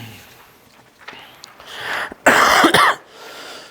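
A teacher coughs in a classroom, a couple of harsh, throaty bursts close to the microphone after some quiet rustling.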